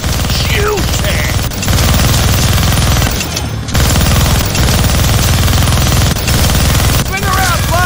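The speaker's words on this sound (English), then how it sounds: "Gonna need both hands to shoot that minigun." A minigun fires in the Deadpool video game in loud, sustained rapid bursts with brief gaps. Voices and game effects can be heard under the gunfire.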